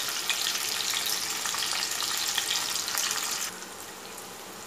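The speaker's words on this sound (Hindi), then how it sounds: "ये ऑयल थोड़ा सा गर्म हो जाए तो मैं डाल दूँगी इसमें 2 अदद स्लाइस की हुई प्याज" Sliced onions hit hot oil in a pan and sizzle loudly and steadily up close, the frying hiss dropping to a quieter crackle near the end.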